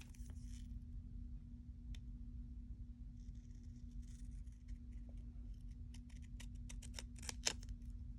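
Scissors cutting paper for a planner, a few faint snips early on, then a quicker cluster of crisp cuts toward the end, over a low steady hum with no talking.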